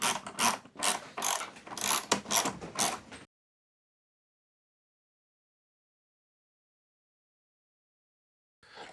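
Ratchet tightening wheel bolts on an Inmotion V9 electric unicycle, a quick series of close clicking strokes for about three seconds, then silence.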